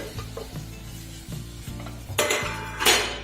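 A spoon scrapes and stirs grated pineapple inside a metal pot for jam, with soft clanks and a moist sizzle growing louder toward the end; no voices.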